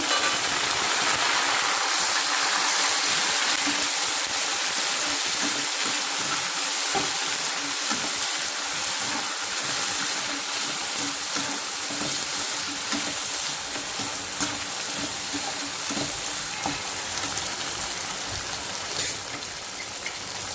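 Tomato pieces fry in a pan for mint rice, giving a steady, fairly quiet sizzle with dense crackling and light popping that continues evenly throughout, with no voices.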